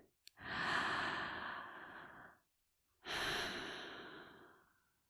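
Two long, deep breaths drawn slowly and released alone in a quiet room, each a sustained airy rush lasting about two seconds with a short pause between them.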